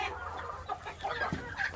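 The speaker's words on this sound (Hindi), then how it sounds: "और एस्ट्रोलॉप ये भी मुर्गा है जी।" Australorp chickens cluck on a farm in Pakistan, with several short, scattered clucks and calls close by over a steady ambient background.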